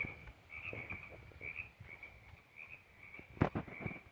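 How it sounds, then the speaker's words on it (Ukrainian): Frogs croak in a steady chorus by a stream on a mountain hiking trail, a sustained trilling hum with occasional nearer clicks and pops, over a soft wash of running water. "Шумить струмочок і квакають жаби."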